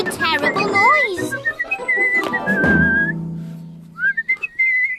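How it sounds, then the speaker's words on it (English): A cartoon bristly whistler makes shrill, wavering whistles that swoop up and down in pitch, loud and close, with short pauses and a few noisy rustling bits between the whistled phrases. "the bristly whistler was making such a terrible noise"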